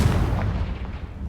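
A Confringo spell explosion in Hogwarts Legacy, a short loud low boom that decays into a rumbling tail over about a second.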